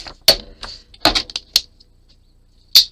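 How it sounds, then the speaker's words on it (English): A paper trimmer cutting 6 x 6 scrapbook paper, heard as a handful of sharp, close clicks and slicing snaps with short pauses in between, no talking. "Where's my trimmer? Let's cut this down a little bit."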